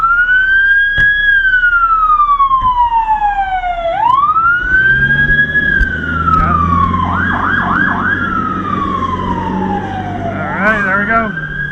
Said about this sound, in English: now they gotta blare the siren for nothing because they're already done